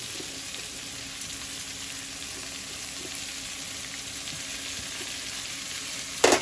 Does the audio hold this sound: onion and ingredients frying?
yes